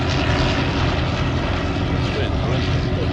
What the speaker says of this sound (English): Who needs a long runway when you've got a triplane or a vintage triplane